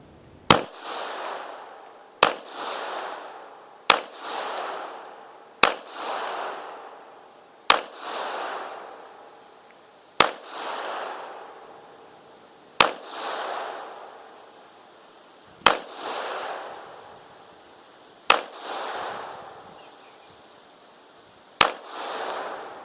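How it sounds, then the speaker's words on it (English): An Astra A-60 pistol fires .380 ACP rounds at a range, ten sharp, loud single shots spaced about two seconds apart, each with a short echoing decay. "So not exactly a match pistol, but I'll put a few more rounds through."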